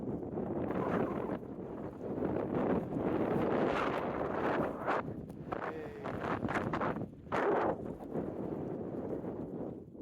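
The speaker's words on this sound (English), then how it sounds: "Very windy as well." Strong wind roars across the microphone for the whole stretch at a high viewpoint near Oxenhope, rumbling steadily with surging gusts and a few brief knocks.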